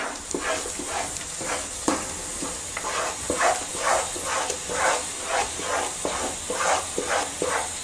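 Palak paneer stirred in a pan over a full gas flame, with a steady loud sizzle and hiss under a repeated rhythmic scraping of the spoon, up close and with no voices.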